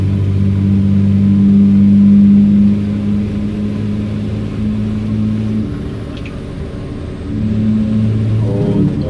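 A 1200HP outlaw truck speeding along: a loud, steady engine drone with tonal hum, easing off midway then swelling again as the throttle opens, heard from inside the cab.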